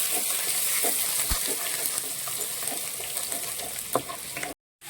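Chopped garlic and ginger fry in hot oil for a prawn dish, a steady, dense sizzle with scattered crackles and a few stirring clatters, close and continuous, then a sudden brief dropout near the end.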